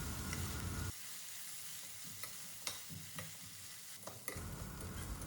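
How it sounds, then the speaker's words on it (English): Chopped onion, ginger and garlic frying in oil over a medium flame, a steady close sizzle with a few sharp stirring clicks and scrapes, quieting briefly in the middle before the full sizzle returns. "on medium flame we will fry them well until the onion, ginger, garlic turn golden brown and aromatic"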